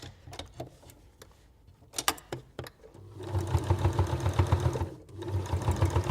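Sewing machine stitching thick oven glove fabric: a few scattered clicks and taps, then a fast close rhythmic chatter of stitching that pauses briefly and resumes.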